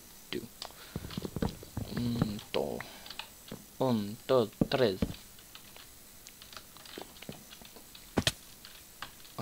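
Someone types on a computer keyboard in quick bursts of clicks mixed with someone speaking and counting aloud.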